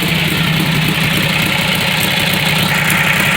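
A 1936 Harley-Davidson Knucklehead motorcycle engine idles, loud and close, with a steady, even, throbbing rumble and no voices over it.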